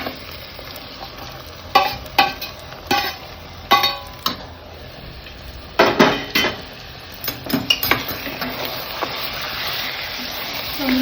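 Mutton curry being stirred in a metal pot, with a spoon knocking and scraping against the metal in irregular clanks over a soft simmering sizzle.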